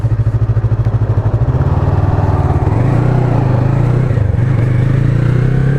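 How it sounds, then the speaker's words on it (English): Wind rushes loudly past a motorcycle helmet during a ride, with the engine's low droning hum steady underneath and its pitch shifting slightly partway through, no talking. "The sound of the wind flowing past the helmet."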